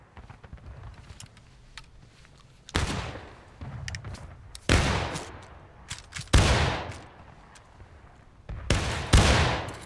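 Musket volleys crash out in the American Civil War game War of Rights, four or five loud ragged bursts spaced a couple of seconds apart, each a cluster of near-simultaneous shots over faint background crackle.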